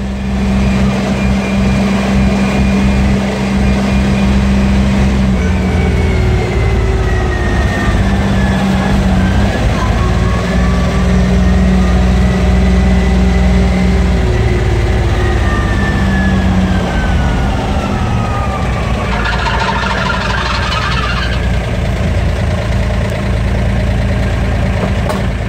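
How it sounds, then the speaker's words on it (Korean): Engine of a handmade miniature fire truck running steadily, a continuous low rumble that stays loud and even throughout. "미니 소방차입니다."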